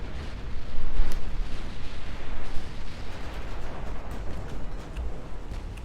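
Heavy naval gunfire from battleship guns, including 17-inch and 14-inch batteries, in the Ultimate Admiral: Dreadnoughts naval warfare game: a continuous, loud, rumbling roar of overlapping booms and blasts, with no speech.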